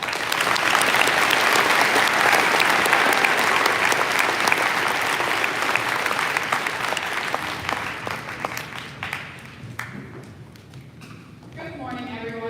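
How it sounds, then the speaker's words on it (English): A school assembly audience at a high school Veterans Day program breaks into sustained, loud applause that holds steady for about nine seconds, then thins to scattered claps and fades. "So please help me say thanks by joining me with a round of applause"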